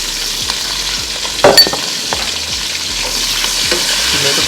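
Onions and potato pieces frying in a pan, a steady sizzle with scattered pops and scraping stirs, one louder clatter near the middle, close and alone without voices.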